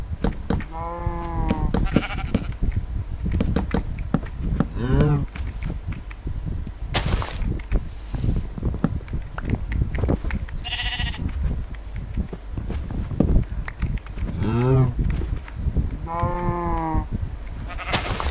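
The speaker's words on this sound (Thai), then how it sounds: "เดี๋ยววัวกับแกะ ก็จะอยู่ห่างๆกันหน่อย อยู่ติดกันไปเลยดีกว่า" Sheep in Minecraft, version 1.16.5, bleat repeatedly in short wavering calls spaced through a pen scene, with light clicks and footstep-like game noises beneath.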